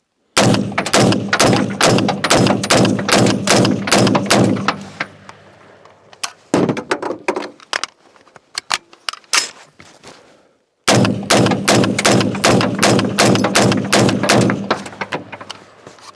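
AR-15 pistol chambered in 7.62x39 with brass-cased ammunition fires two long strings of rapid, loud, closely spaced shots separated by a few seconds of scattered single shots and quieter handling noises.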